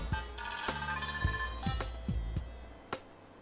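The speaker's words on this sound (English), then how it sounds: "All you need to do is press the tick button and it will start ringing your phone." A phone rings in a steady, repeating electronic tone pattern, set off remotely by a Sony SmartWatch find-phone feature; the ringing is moderately loud and close, with no talking.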